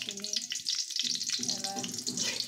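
Whole spices and dried red chillies sizzling in hot oil in a pan, a steady close hiss and crackle throughout, with no talk.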